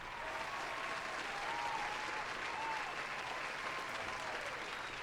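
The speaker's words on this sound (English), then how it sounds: "Here's your round of applause." A canned round of applause sound effect played on a gaming podcast: a steady, dense crowd clapping that holds at an even loudness for about five seconds with no talk over it.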